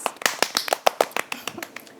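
A burst of sharp, closely spaced hand claps, about a dozen quick hits, close and fairly loud, settling into lighter taps toward the end.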